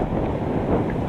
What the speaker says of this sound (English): It's ever such a windy day today